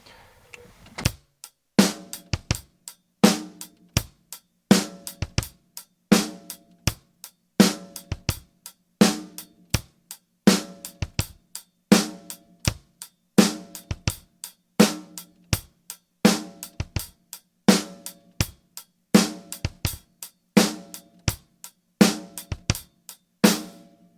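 A slow drum groove played with a foot-leg bass drum double, regular sharp kick and snare hits repeating in an even rhythm with small doubled strokes, loud and close, no talking.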